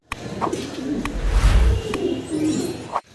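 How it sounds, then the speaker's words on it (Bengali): Exhibition pigeons coo repeatedly nearby, soft throaty calls rising and falling over a continuous background with occasional sharper chirps. "আমরা শুরুতে বাইরের এক্সিবিশন কবুতর দেখাইতেছি"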